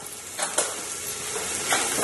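Onions sizzle and fry in a pot for an Irish stew, giving a steady close hiss with brief scraping stirs, and nobody speaks.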